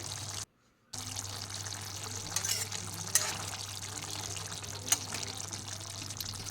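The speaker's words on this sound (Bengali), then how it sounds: "আলু আর ডাঁটা খুব ভালোভাবে ফুটে গেছে।" Potatoes and drumstick pods simmer in a covered pot of salted water, giving a continuous bubbling hiss with a couple of louder pops. A low hum sits underneath, and the sound briefly cuts out near the start.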